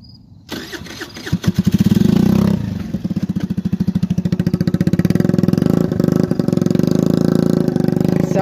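A motorcycle engine fires up and settles into a loud, rough, lumpy running rhythm with throttle blips, close by and alone.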